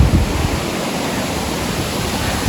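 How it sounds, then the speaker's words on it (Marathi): Monsoon-swollen waterfalls at the Shri Kshetra Marleshwar temple in Konkan, Maharashtra, pour down in a steady, dense rushing roar that stays even throughout, with no voices. "असे छोटे मोठे धबधबे दिसतील ते खाली जाऊन मिळतं हे बघा"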